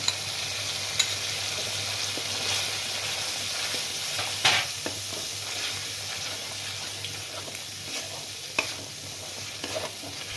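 Masala frying in a pan as cashew and poppy seed paste is added for a potol korma, a soft steady sizzle broken by scattered spoon scrapes and clicks, with no voices.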